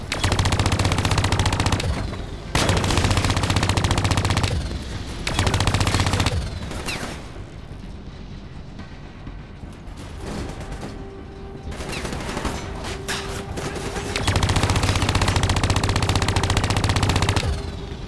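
Heavy automatic gunfire in Call of Duty Black Ops III as VAP vehicles are shot down, loud sustained bursts broken by short pauses, with a quieter stretch in the middle before another long burst.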